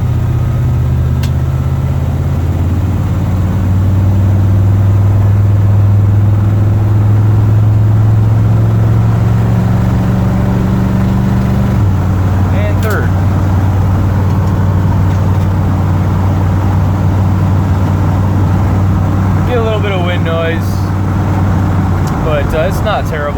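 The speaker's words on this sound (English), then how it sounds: "the exhaust isn't too loud at all. You can barely hear it in the cab unless you're really on it" A 1977 Ford Super Cab truck's engine and exhaust drone steadily from inside the cab while driving, a low continuous hum with shifting pitch as it gears up, and someone talks over it throughout.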